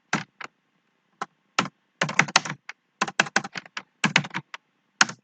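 Fast, uneven bursts of clicking keys on a computer keyboard while C++ code is typed, close and crisp, with short pauses between clusters of keystrokes and no voice.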